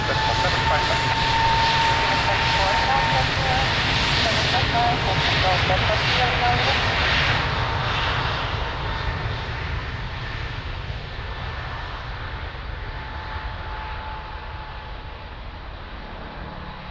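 An airliner takes off from runway 02 at Lisbon Airport, its engines roaring loud and steady, then fading slowly into the distance, with air traffic control radio talk heard over it.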